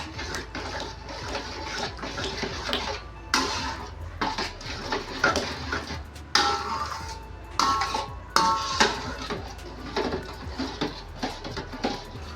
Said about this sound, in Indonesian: Oke, ini kita aduk ya.